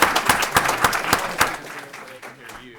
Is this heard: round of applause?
yes